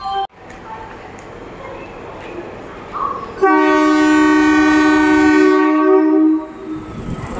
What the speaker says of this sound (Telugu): ఇదిగోండి మన ఎంఎంటీఎస్ లోకల్ ట్రైన్ అయితే వచ్చేసిందండి ప్లాట్ఫామ్ నెంబర్ 1 మీదకి అయితే ఈ బేగంపేట రైల్వే స్టేషన్లో